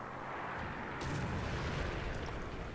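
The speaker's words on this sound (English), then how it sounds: "And I'm also getting shot at from the spawn." A Panzer IV Ausf. H tank in a tank video game takes fire: a deep rumbling hit lands about a second in, with a sharp metallic impact crack shortly after over a steady engine drone.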